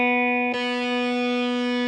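Electric guitar switched from a clean jazzy tone to a distortion setting, a sustained buzzy chord ringing with dense upper overtones, loud and steady after a brief pickup click, with no talking.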